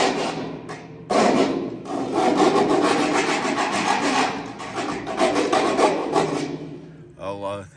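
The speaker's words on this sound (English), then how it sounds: "I want to go in with a file, kind of file those down a little bit" A hand file rasps back and forth over rough spots on a stock tank pool build, loud, close and continuous scraping strokes with brief pauses between passes.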